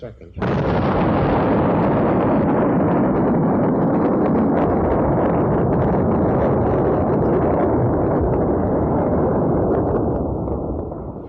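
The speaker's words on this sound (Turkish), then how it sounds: "Bomba uçaktan ayrılışından 53 saniye sonra patlayacaktı." The atomic bomb explodes over Hiroshima with a sudden onset, then a massive sustained roar that rumbles on for several seconds before slowly fading.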